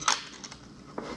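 Mitre gauge parts for a DeWALT DWE7491RS table saw slip into the metal saw track, giving a couple of brief, light metallic clinks and scrapes, close by, with quiet gaps between them.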